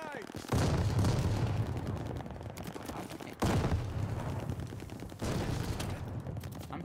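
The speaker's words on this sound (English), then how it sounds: "Throwing grenade!" Video game grenade blasts and gunfire: three heavy booming bursts, each followed by a rattling decay of shots and debris, loud and close, with no voices over them.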